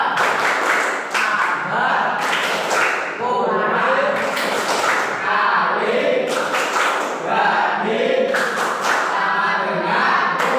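A school class performs the tepuk matematika clapping chant together, with many hands clapping in rhythmic bursts mixed with voices chanting in unison, loud and close throughout the room.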